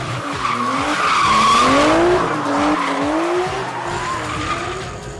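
Car tires skid and squeal loudly in long, wavering screeches over a roaring engine, continuous for several seconds, in the UK.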